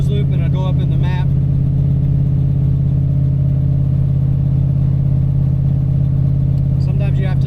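An LS-swapped Mazda RX7 engine held steady at 2,000 RPM, a loud, constant low idle-like drone with someone talking over it at the start and end.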